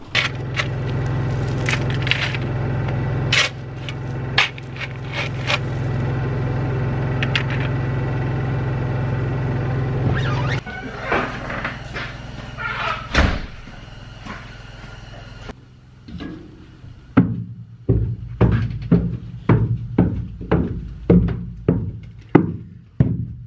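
Gravel shoveled and dumped to raise a log cabin root cellar floor, rough crunching scrapes and a steady engine-like hum, then a series of sharp scraping shovel strokes.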